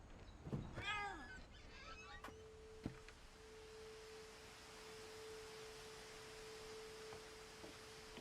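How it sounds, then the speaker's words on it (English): Cat meowing in What Remains of Edith Finch, a short, close meow near the start, then a quiet ambient scene with a soft sustained tone and a few faint clicks. "Just hear a meow."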